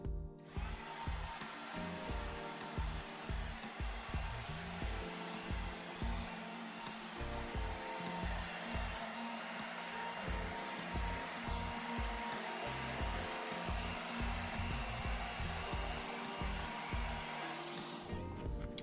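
An electric sander smoothing the edges of a poured piece, a steady close motor whir with rhythmic pulsing as it works the surface, running continuously without talk.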